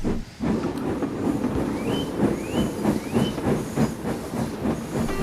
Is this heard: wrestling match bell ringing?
no